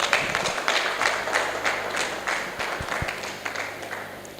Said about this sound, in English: All right, a round of applause to her.